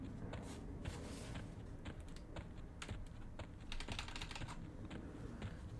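Rapid clatter of keys being typed on a computer keyboard during a game, quick irregular taps close to the microphone over a low steady background hum.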